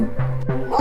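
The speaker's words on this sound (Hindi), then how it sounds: "कुत्ता क्यों भौंक रहा है?" A dog in a Hindi cartoon giving a couple of short, loud close yips in under a second.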